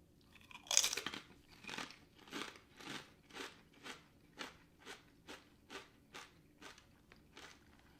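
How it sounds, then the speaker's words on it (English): A loud first bite into a crisp sea salt kettle cooked potato chip, followed by about a dozen rhythmic crunching chews, close and otherwise quiet. "that's a sea salt flavored potato chip. Nice and crunchy."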